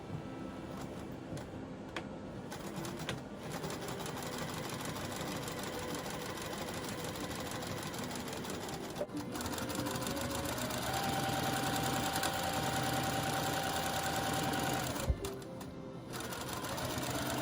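A sewing machine stitches a large cotton shopping bag, a steady fast mechanical chatter that runs almost without a break and shifts slightly in pitch midway, with no talking.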